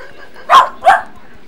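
Puppies give two short, sharp barks in quick succession, close and loud against a quiet background.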